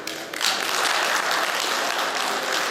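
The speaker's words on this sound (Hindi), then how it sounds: "अपने लिए ज़रूर तालियां बजाइएगा।" Applause swells from an audience at an international mushaira in Bahrain, starting sparse, then filling into steady, dense clapping that holds to the end.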